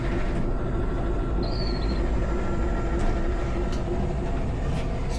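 An executive-class KA Pangandaran train rolls into the station with a continuous, heavy rumble, steady and fairly loud throughout, with a faint high squeal briefly riding on top.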